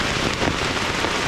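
Heavy rain drums steadily and densely on a tent during a severe thunderstorm, a loud, continuous close patter with no voices.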